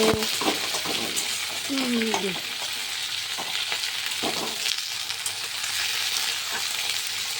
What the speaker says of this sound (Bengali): এটা খুব সুন্দর করে ভেজে নেব